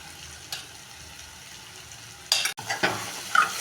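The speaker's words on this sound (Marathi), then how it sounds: "मसाला लाल चटक होईपर्यंत आपल्याला असं हलवायचं आहे. छान असं परतून घ्यायचं आहे." Chili powder masala is stirred and fried in a pan, a quiet low hiss at first, then a louder sizzle with scraping stirs in short bursts near the end.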